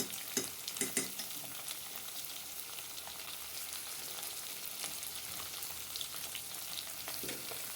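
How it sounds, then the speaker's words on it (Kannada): Hyacinth beans (avarekalu) fry in a pan with a steady, close sizzle throughout, joined by a few louder stirring scrapes near the start and end. "ಅವರೆಕಾಳು ಅಷ್ಟು ಚೆನ್ನಾಗಿ ಫ್ರೈ ಆಗಲಿ"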